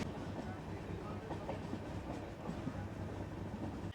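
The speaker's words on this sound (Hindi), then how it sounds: "फिलहाल ट्रेन एक अच्छी स्पीड पे चल रही है।" A passenger train heading for Guwahati runs at speed, heard from inside the coach as a steady low rumble with faint rhythmic wheel clatter throughout.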